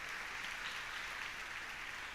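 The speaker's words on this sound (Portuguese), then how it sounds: "Queria que você aplaudisse os nossos visitantes" Congregation applauds visitors during an evening church celebration service, a steady wash of many hands clapping, faint and distant, with no talking over it.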